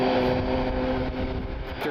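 A Boeing 737 MAX jet engine spools up at a rainy airport, a steady droning whine with tonal hum, fairly close and sustained throughout, with a voice talking over it.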